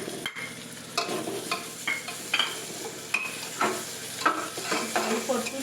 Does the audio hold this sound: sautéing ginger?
yes